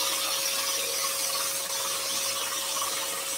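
Scroll saw cutting wood for a compound-cut candle, with dust extraction running underneath: a steady, dense buzzing whir that holds unbroken at even loudness throughout.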